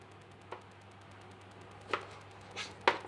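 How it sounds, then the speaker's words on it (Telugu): Knife chopping through tomato for an egg salad, a few sparse, crisp cuts spaced apart with the sharpest strokes near the end, close and fairly quiet with no talking. "ఇప్పుడు టమాటా కూడా కట్ చేసుకోవాలి."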